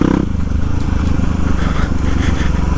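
A motorcycle engine revving on the throttle along a muddy swamp trail, a loud close droning rumble that pulses steadily through the clip.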